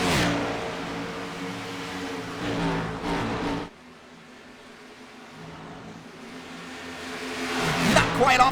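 Gen-6 Cup Series stock cars race at Kansas Speedway in a video game, with engines droning and revving loudly under a commentator's voice. The roar dips briefly midway, then swells again toward the end.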